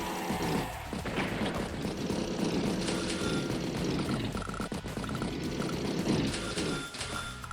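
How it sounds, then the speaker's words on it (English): Bomber aircraft unit moving across the map in the Advance Wars by Web strategy game, a steady droning propeller-engine rumble that holds at even loudness throughout with slight swells, alone with no talk. "Bomber heading down south of the winter"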